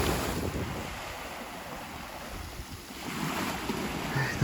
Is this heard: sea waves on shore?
yes